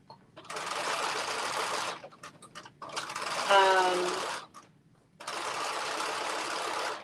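A sewing machine stitches a hem on a reversible top, running in three steady bursts of a couple of seconds each, with short pauses between and a brief speaking voice in the middle gap.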